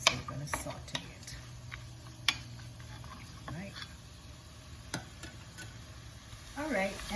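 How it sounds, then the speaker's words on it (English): Onions and snake gourd saute in a pan with a soft, steady sizzle, broken by scattered sharp clicks and scrapes of stirring, fairly quiet overall, with a voice briefly audible near the end. "So we're going to saute it."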